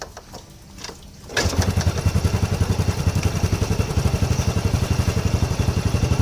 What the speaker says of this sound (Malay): aku hidupkan dulu sebab kalau engine tidak hidup kita tidak boleh tahu